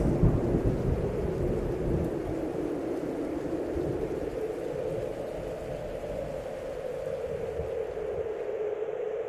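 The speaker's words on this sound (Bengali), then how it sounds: "চারিদিকে ঘন মেঘ ছেয়ে গেছে, ঝড় উঠেছে" A thunderstorm with a kalbaishakhi summer squall: a continuous low rumble of thunder over steady rain, fairly quiet and unbroken, with no voices.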